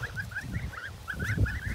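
Geese grazing on a village meadow honk in a quick run of short, nasal calls, close by and steady, over a low background rumble.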